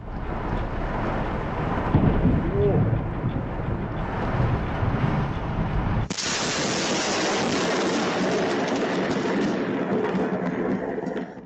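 A thunderstorm with heavy rain, giving a loud, continuous broadband roar with deep rumbling in the first half, then a harsher, brighter downpour hiss after an abrupt change; no voices.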